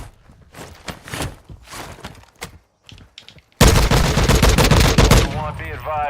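Gunfire from an FTAC Recon rifle in Call of Duty DMZ, scattered single shots and footsteps at first, then a loud sustained burst of rapid fire, with voices talking over it.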